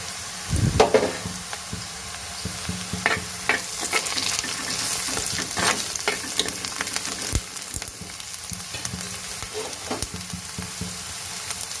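Curry leaves, green chilies and onions fry in a pan with a steady sizzle, broken up by stirring scrapes and clinks from a utensil at close range.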